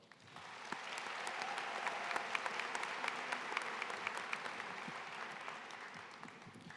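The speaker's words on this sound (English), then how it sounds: "let's give a big round of applause for that." Sustained, dense applause from a graduation audience at the Martha Layne Collins High School 2025 ceremony, a steady wash of many hands clapping that swells in, holds at full strength, then eases slightly, with no speech over it.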